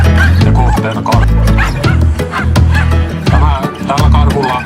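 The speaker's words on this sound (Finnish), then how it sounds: "haukku erittäin hyvä, kiihkeä ja kaiken aikaa kiinnittää karhun huomioon itseään" Hunting dog barking intensely and continuously at a bear during a hunting dog trial, loud repeated sharp barks in quick bursts with faint voices in the background.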